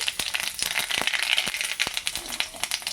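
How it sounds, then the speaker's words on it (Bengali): Cumin and mustard seeds splutter in hot oil, tempering for a mustard greens dish, giving rapid, close pops and crackles that come in scattered bursts. "এখানে আমি একটু জিরে আর একটু সর্ষে ফোড়ন দিয়ে দিচ্ছি।"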